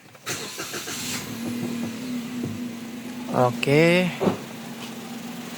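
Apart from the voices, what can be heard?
Daihatsu Ayla 1.2 engine starting and idling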